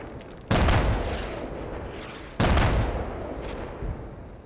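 Two heavy artillery blasts from Combat Mission: Battle for Normandy, set in the Battle of Villers-Bocage, each a sudden loud boom at about 0.5 and 2.4 seconds with a long rumbling decay, plus a smaller thump near the end.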